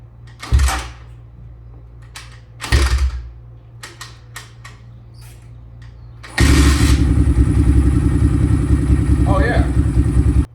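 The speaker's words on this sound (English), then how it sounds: "I'm just gonna go ahead and test out this Kickstart right now." An SSR 189 motorcycle is kicked over twice with clattering thumps, then catches and settles into a loud, steady idle close by. A voice is heard briefly over the running engine.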